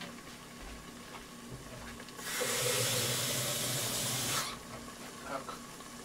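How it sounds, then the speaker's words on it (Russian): Water is poured into a multicooker bowl of pilaf in one steady rushing stream lasting about two seconds, set between quieter kitchen sounds. "еще надо немножко водички"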